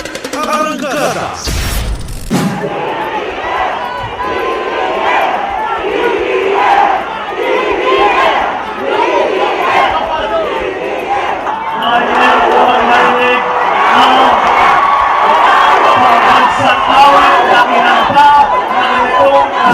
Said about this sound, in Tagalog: Ini ang tingog han mga Taclobanon nga nagpapaso han kasing-kasing ni Presidential Candidate former Senator Ferdinand Bongbong Marcos Jr.